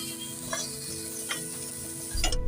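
Onion and carrot stir-fried in a pan, a steady close sizzle broken by a few scraping clanks of a spatula against the metal, with no voices.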